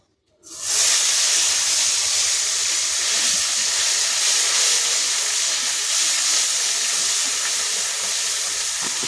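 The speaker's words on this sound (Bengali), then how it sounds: "এবার কড়াইতে দিয়ে দেবো পেঁয়াজ বাটা।" Onion paste hits the hot oil in a wok after frying fish for rui macher kalia, bursting into a loud, sudden hiss that then holds as a dense, continuous sizzle with no talking.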